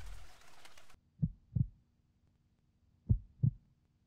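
A heartbeat in the video game To the Moon gives two pairs of soft, low double thumps with a quiet gap between them, following a brief burst of noise.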